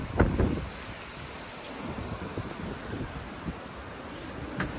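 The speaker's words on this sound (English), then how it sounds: "We got a squall line coming. It's about 60 mile per hour wind right now for sure." Strong squall-line wind gusting around 60 mph ahead of a storm, a steady broadband roar buffeting the microphone with a couple of heavier gusts at the start, loud and close, no talking.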